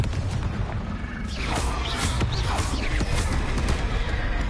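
Confringo fire spell detonating in the video game Hogwarts Legacy, a rumbling burst of booms and crackling debris during combat, dense and continuous rather than a single clean blast.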